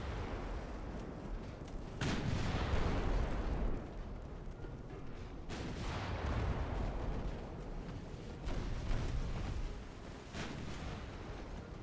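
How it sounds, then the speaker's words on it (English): Light cruiser firing its naval guns in the game Ultimate Admiral: Dreadnoughts, heavy booms at about 2, 5.5 and 10.5 seconds rolling over a constant loud rumble of battle noise. "you are actually being fired upon by the light cruiser"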